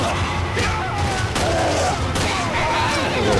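Gunshots ring out in a Resident Evil video game as headshots are landed, a few sharp bursts spread over a busy game soundscape with shouted voices and background rumble.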